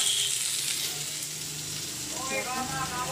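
Pointed gourd and potato curry fries in a pan with a steady, close sizzle and crackle throughout, brighter bubbling spatters picking up near the end; no one speaks.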